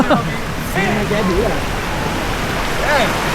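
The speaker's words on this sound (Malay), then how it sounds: "Weh, hujan lebat weh." Heavy rain pours steadily at Janda Baik, Malaysia, a constant broadband wash, with people talking over it throughout.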